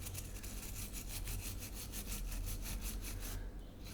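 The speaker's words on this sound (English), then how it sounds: "let's clean it up a little bit with my toothbrush" A toothbrush scrubs a Nissan key fob in quick, even back-and-forth strokes, a close, faint rasping rhythm that stops near the end, with no talk.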